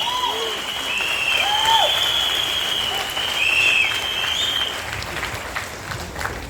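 Sustained applause from an audience at a stage event, dense and continuous clapping filling the whole stretch at steady loudness, with a few shouts or whistles over it.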